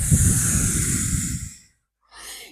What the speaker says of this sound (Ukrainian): знову роблю видих